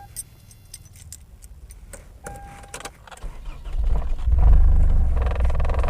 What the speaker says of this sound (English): so let's start our car